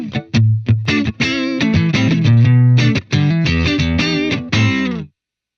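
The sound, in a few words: clean guitar through amp model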